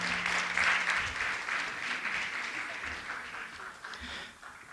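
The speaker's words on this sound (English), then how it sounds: "Give them a big round of applause" Audience applause at a New Jersey community health anniversary celebration, a sustained wash of many clapping hands at moderate level that gradually thins and softens toward the end.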